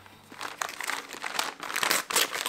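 A paper envelope from a book publisher being torn open and handled, close, loud crinkling and rustling that comes in uneven bursts throughout, with no speech over it.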